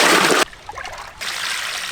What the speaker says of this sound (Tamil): இந்த நேரத்தில் 4 கிலோ பாஸ்மதி அரிசியை களைஞ்சு ஊற வச்சுக்கலாம்.